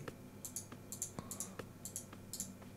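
Quiet mouse clicks come in quick irregular bursts while someone plays the video game Plug & Play, with crisp taps over a low background hum and no speech.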